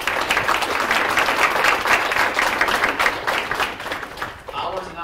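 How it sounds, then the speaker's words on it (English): Audience at a university campus update meeting applauds the strategic planning core team, a steady round of clapping that carries on for several seconds before tapering off. "Let's give a round of applause to these folks."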